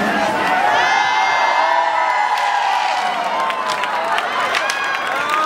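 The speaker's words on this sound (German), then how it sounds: "großen Applaus" A crowd at an anniversary folk-costume parade in Wattens cheers, whoops and claps in a loud, continuous wash, with shouting voices mixed throughout.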